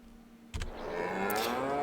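Cattle mooing in the Farming Simulator 22 video game, a single drawn-out moo that starts abruptly and carries on loud and sustained with no talk over it.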